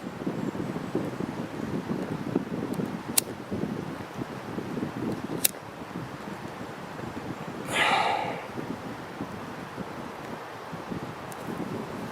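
Gusty wind blows steadily outdoors against a microphone while a ferro rod fire is being lit, a low continuous rumble with a brief louder gust swelling near the middle and a couple of sharp clicks.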